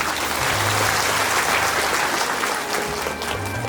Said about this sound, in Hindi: इनके लिए जोरदार तालियां बजाओ तो।